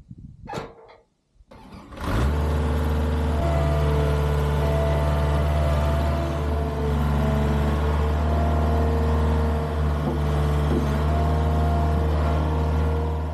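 A Case 1838 skid loader's engine catches after a short sputter and settles into a loud, steady running drone close by, with a constant low rumble and no talking.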